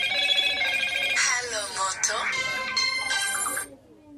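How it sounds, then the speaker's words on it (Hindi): A telephone rings with a bright repeating electronic tone, loud and near, during a Hindi sermon on the power of the tongue, with someone talking over it before it cuts off. "सॉरी फोन भी आते रहते हैं अक्सर।"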